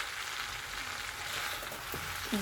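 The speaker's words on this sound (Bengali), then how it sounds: "সবজি আর ডিম দিয়ে দিছি একটু হোক সব কিছু মিশিয়ে ফেলছি" Vegetables and eggs frying together in a pan, a continuous hiss of sizzling oil with faint stirring scrapes and a brief clink near the end, close and even throughout.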